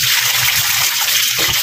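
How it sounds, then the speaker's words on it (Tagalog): Water gushes steadily down a kitchen sink drain as boiled isaw (grilled intestine) is rinsed and strained, a continuous close splashing wash with a brief low gurgle near the end. "Dinidrain ko lang dyan dito sa ating lababo."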